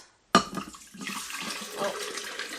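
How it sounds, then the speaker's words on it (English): Water pours steadily into a blender jar after a brief silence, a continuous splashing rush that stays fairly even and close. "we're going to go ahead and add our water first"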